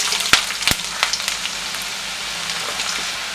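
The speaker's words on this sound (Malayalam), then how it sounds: "ഫസ്റ്റ് നമുക്ക് ഇഞ്ചി വറുത്ത് കോരാട്ടോ" Long-cut strips of ginger frying in hot oil, a steady soft sizzle with a few sharp pops and crackles near the start, close and moderately quiet with no talking.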